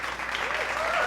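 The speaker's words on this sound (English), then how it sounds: "I didn't say that for you to clap" An audience claps during a crafting demonstration, a brief dense burst of applause from several people, fairly close and steady throughout.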